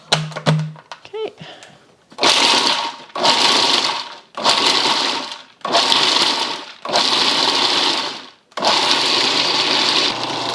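A food processor grinds chili satay paste in repeated loud pulses of steady whirring, about six bursts separated by short pauses, with a few small clicks at the start.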